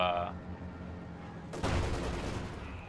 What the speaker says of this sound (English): Oh, bombing run right on top of the mortar squad, clears it out completely.